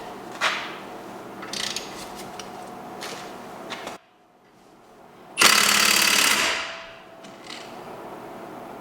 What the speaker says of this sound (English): You could have used the gun, but I felt like using my ratchet.